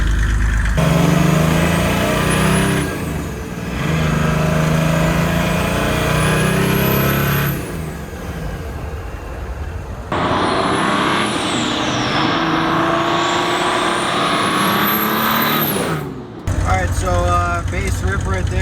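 An OM606 turbodiesel swapped into a Datsun 240Z revs hard in repeated climbing sweeps toward high RPM, dropping back between pulls, loud and close, with a voice talking in places.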